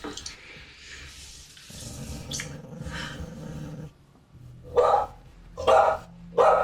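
Dog in a TV drama growling low, then giving three sharp, loud barks spaced about a second apart, close and alone after a stretch of quieter sounds.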